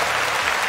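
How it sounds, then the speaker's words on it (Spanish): Applause for someone's wife during a Spanish-language interview, a brief burst of dense, loud clapping lasting under a second with no speech. "aplauso a la esposa ya."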